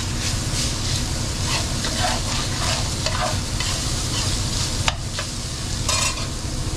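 Butter melting and sizzling in a pan with lean venison, a steady broadband crackle with scraping stirring strokes throughout, close and fairly loud with no talking.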